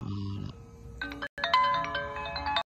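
A smartwatch rings with an incoming phone call, a bright melodic ringtone of repeated chiming tones that starts after a short low voice and continues with a brief dropout, fairly close and clear.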